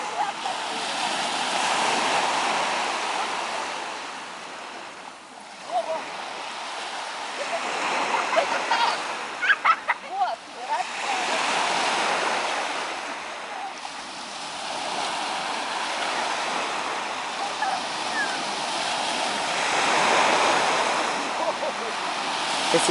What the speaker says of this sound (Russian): А сейчас волны идут к берегу